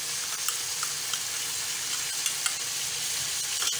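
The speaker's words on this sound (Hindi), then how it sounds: "अब मैं अदरक लहसुन डाल रही हूँ, 2 टेबल स्पून अदरक लहसुन है, इसके साथ भी फ्राई करेंगे" Chicken fries with two tablespoons of ginger garlic paste in a karahi for Shinwari karahi, giving a loud, continuous bright sizzle with small spattering pops, close and steady throughout.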